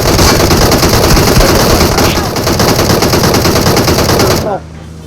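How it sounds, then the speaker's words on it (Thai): Sustained automatic gunfire from a PUBG Mobile match hammers away in a dense, loud stream of rapid shots close up, then cuts off abruptly near the end, leaving a quieter background. "กูยิงนะ"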